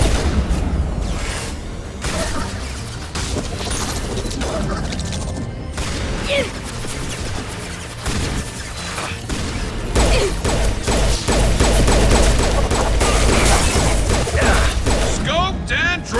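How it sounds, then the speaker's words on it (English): A sniper rifle's high-impact shot rings out in Mass Effect 2, buried in a loud, dense din of combat gunfire, blasts and clattering mechanisms that carries on unbroken throughout. "Firing a high-impact shot!"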